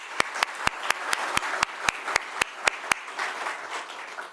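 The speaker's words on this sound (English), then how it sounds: "Join me in giving her a round of applause." Crowd applauding Governor Kathy Hochul at an affordable housing event in Western New York, with a steady wash of clapping and a string of loud, close, evenly spaced claps that stop partway through while the softer applause carries on.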